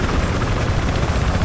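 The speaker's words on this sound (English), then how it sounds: "Look out, enemy chopper coming" A Battlefield 4 attack helicopter roars steadily nearby with a dense, continuous rotor and engine rumble that holds even in loudness throughout.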